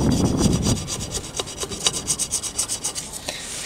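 Old gasket remains scraped off a Moto Guzzi engine's mating surface, a close, loud rasping scrape in quick repeated strokes, becoming a rhythmic back-and-forth rubbing, with no talk.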